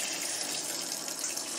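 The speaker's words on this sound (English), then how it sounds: "It's putting water in, turn it a little, put more water in." A Maytag MVW6200KW 5.5 cu. ft. top-load washer fills with water, a steady, close, hissing stream pouring into the drum with no voices.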